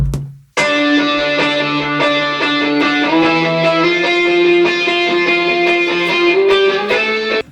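A distorted, sustained guitar chord whose pitch gradually drags and shifts with a slow-down effect in music production, loud and continuous after a short opening note and brief gap.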